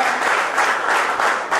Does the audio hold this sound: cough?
no